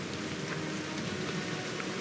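Steady rainfall patters continuously on surfaces nearby, a dense even hiss of drops with no voices or other sounds.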